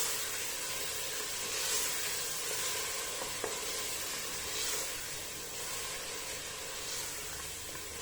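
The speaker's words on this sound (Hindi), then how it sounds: "अच्छी तरह मसाला भून लेंगे।" Spice masala fries in a pan with a steady, close sizzle and hiss, a continuous frying crackle that holds even throughout with no voices.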